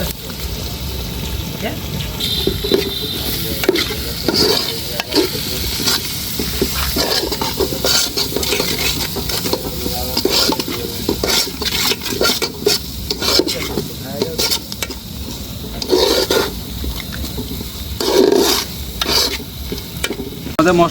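A spice mixture is sautéed for village-style chicken kosha, a loud close sizzle and frequent scraping stirs over a long stretch, with faint voices and some watery sounds in the background.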